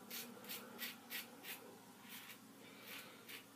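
A razor blade scrapes over slick shaving soap in a steady series of short, close rasping strokes, about ten in all, soft and crisp with no talking.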